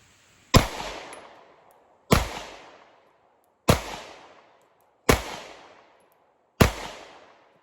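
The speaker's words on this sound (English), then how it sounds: "Let me throw up a shoot and see what we can do. Okay, so we have 5 rounds, Winchester white box, 10 yards as usual" Five sharp pistol shots from a Springfield Armory Hellcat Pro firing Winchester white box ammunition at 10 yards, evenly spaced about a second and a half apart, each loud crack trailing off in a short echo.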